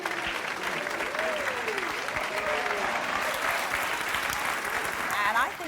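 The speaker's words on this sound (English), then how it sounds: "I think that applause came from the guys" Studio audience at a daytime talk show applauds steadily and fairly loudly while people talk over it, with a few whoops rising through the clapping.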